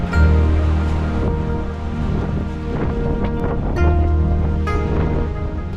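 Ocean surf breaking on a beach along the Road to Hana on Maui, a steady low roar of waves with swells rising and falling, heard from close by with no talking.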